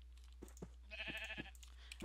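Short bleat from a sheep in the Minecraft video game, heard once in the middle, faint and alone between soft clicks and footstep-like taps.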